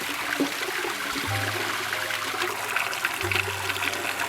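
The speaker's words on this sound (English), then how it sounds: "you turn your water on, you get your water temperature to what you want it" Tap water running from a faucet while setting the temperature for an AquaVac aquarium water change: a steady, rushing stream with a low hum coming and going beneath it.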